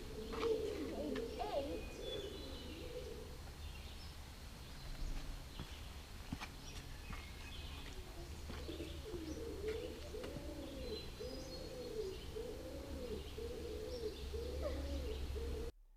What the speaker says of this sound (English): we found doves, residents of the cave, making their bird noises, and the sound echoed through Rock House and out into the gorge